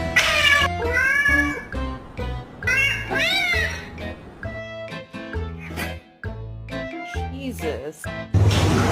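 A cat meows and yowls repeatedly, loud and close, in a string of rising and falling cries mixed with voice-like vocal sounds.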